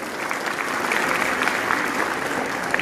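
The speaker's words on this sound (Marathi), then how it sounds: "जोरदार टाळ्या होऊन जाऊ द्या." An audience at a school felicitation ceremony for sports achievers claps in a dense, continuous wave of applause, loud and sustained across the whole stretch, with faint voices mixed in.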